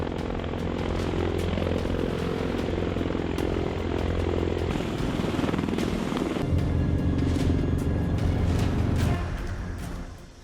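Continuous loud roar of a US Navy F-18 Super Hornet fighter jet on an aircraft carrier, a steady broadband engine rumble that holds for about ten seconds before easing off.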